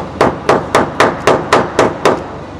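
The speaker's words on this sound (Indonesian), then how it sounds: "Gak usah pakai alat guys, palu gitu doang udah lepas" A hammer knocking trim molding off a Honda Civic Estilo, eight sharp, evenly spaced metallic strikes in quick succession, loud and close with no talk.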